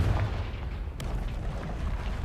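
A Confringo fire spell exploding in the video game Hogwarts Legacy: one sharp blast cracking out over a heavy, rumbling low roar that keeps booming afterward.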